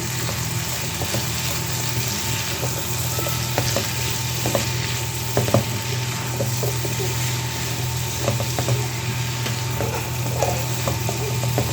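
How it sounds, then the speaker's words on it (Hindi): Pumpkin sabzi with salt, turmeric and crushed chilli sizzles steadily in a pan, a constant frying hiss with occasional light scrapes and clinks of stirring, close and even throughout. "अब यहाँ पे देखिए मसाला डाल के हमने इसको पका लिया थोड़ा सा"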